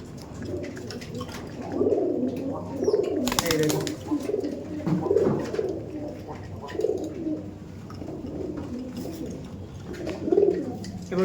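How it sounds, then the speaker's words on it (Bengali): Imported Giribaz pigeons coo in repeated soft, throaty bursts from close by, several birds overlapping in an uneven rhythm, with one short clatter partway through. "এত সুন্দর সুন্দর পায়রা আছে আপনার ইম্পোর্টেড পায়রা"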